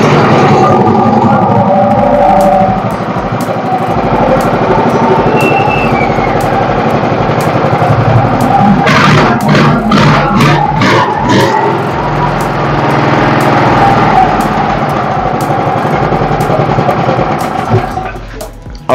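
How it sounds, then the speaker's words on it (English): A four-stroke electric generator with a weak governor spring runs at low speed and low voltage, giving a steady, loud droning engine hum throughout with a brief mechanical rattle near the middle. "when I did put on the generator, the speed of the generator was so low"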